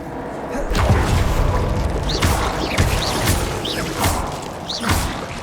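Bombarda blasting spell explosions in the Hogwarts Legacy video game, a series of heavy booming thuds and crashes with whooshing debris, loud and close, repeating roughly once a second.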